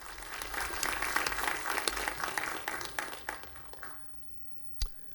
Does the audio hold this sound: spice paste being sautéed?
no